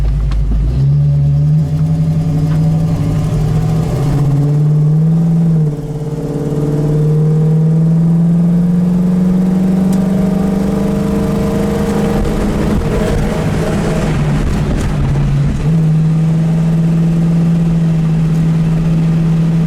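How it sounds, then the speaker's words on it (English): A 1972 AMC Javelin drives along a road, its engine note loud and close, climbing and dropping as it shifts through gears, with steady mechanical drone and no voices. "Drives down the road good, no hands on the wheel."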